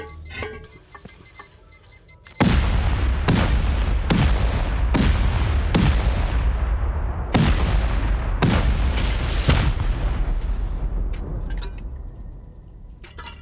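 Rapid series of about eight huge, loud blasts from C4 explosives during a base raid in a survival video game, each a sharp boom with a long decaying rumble, closely spaced and overlapping after a quieter opening.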